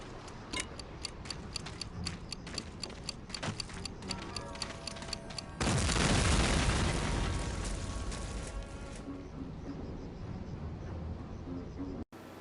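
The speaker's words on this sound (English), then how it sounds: "You blow a gate leading to the actual gun emplacements, then blow the guns themselves." Steady ticking plays before a loud explosion destroys gun emplacements in the video game Medal of Honor: Allied Assault, a heavy boom that fades into a long rumbling tail.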